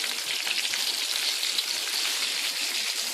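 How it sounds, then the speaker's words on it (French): Meatballs for a Shabbat dish, floured and dipped in egg, frying in hot oil with a steady, dense sizzle that crackles evenly throughout, close and fairly loud, with no talking. "On va venir faire frire l'ensemble des boulettes."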